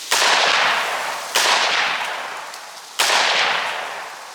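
Three sharp, loud rifle shots at a shooting range, spaced about a second and a half apart, each cracking hard and then ringing out in a long echoing decay.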